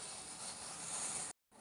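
Masala chai boiling hard in a pot, a steady dense hissing bubble that runs unbroken, close and fairly loud, then cuts out abruptly near the end before resuming briefly.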